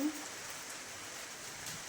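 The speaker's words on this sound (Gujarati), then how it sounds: "બહાર તડકો છે ને વરસાદ ચાલુ છે" Steady rain falls in sunshine with a continuous, even hiss and no distinct drops standing out, filling the whole moment.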